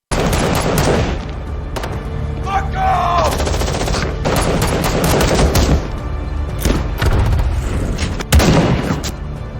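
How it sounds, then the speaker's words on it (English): Gunfire from a fierce shootout inside a factory in a gangster film scene, with loud, dense bursts and sharp cracks running continuously throughout, layered over a thick soundtrack mix with voices mixed in. "Vincent was inside the factory, was spotted by Marco's men, and a fierce shootout ensued."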